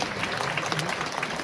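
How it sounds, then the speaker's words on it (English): Steady, dense applause from a film festival audience welcoming a speaker, sustained at an even level throughout with no pauses. "Please welcome her with a big round of applause."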